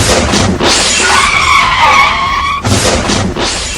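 A car on a highway brakes hard and skids, tires screeching loudly for a couple of seconds before a heavy impact against a divider, followed by more road noise.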